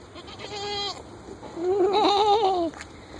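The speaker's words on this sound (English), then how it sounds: "What are you doing, goat?" A goat on a small farm bleats twice up close, a short wavering cry followed by a louder, longer one with a trembling, nasal quality.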